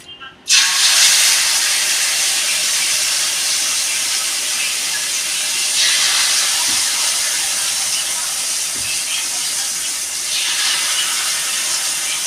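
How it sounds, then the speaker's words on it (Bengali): Poppy seed fritters fry in hot oil with a loud, continuous broadband hiss and sizzle that starts abruptly and holds steady, close up, with a few faint knocks underneath. "এবার আমি সব বড়াগুলো ভেজে নেব"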